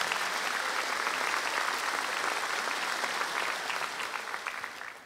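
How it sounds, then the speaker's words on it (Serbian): Audience in a television studio applauds steadily, a dense, even wash of clapping that holds strong for several seconds before gradually thinning toward the end. "Molim još jedan aplauz za Tahire."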